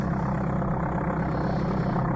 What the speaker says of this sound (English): Ah, the lovely sound of the Cessna.